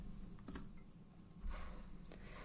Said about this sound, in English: in our object tab, we'll type in 44 inches for the width